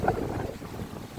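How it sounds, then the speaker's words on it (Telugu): Water splashing against rocks at a reservoir, a steady low wash churning continuously, heavily buffeted by gusting wind noise on the microphone. "చెప్పినా కదా వాటర్ సౌండ్ మస్తు వస్తుందని."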